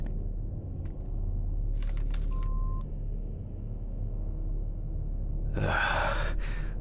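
Phone dialing in the Autopsy Simulator game: a few faint clicks, then one short steady beep tone, with a quiet background and a louder burst of noise near the end.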